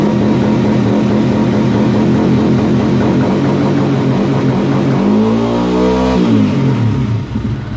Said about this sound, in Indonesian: Habis itu kita tarik koplingnya, terus digas.